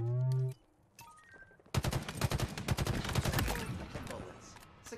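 Halo Infinite ranked PvP match: after a brief in-game tone and a short lull, a loud burst of rapid automatic gunfire rattles on for several seconds, with bits of game sound around it.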